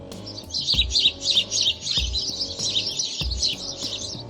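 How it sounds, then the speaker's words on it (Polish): House sparrow song, a run of bright repeated chirps in a steady busy pattern, close and clear, with faint low thumps beneath. "poprawna odpowiedź to wróbel"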